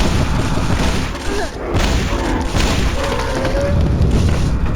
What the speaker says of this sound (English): The Fragfire Gun is a very enjoyable shotgun with a flamethrower alt-fire